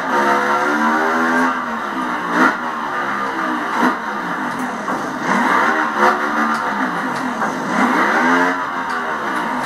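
A KTM 450 EXC motorcycle engine revs repeatedly in the video game The Crew Wild Run, set in Las Vegas, rising and falling in pitch through several throttle surges, loud and continuous with no talking.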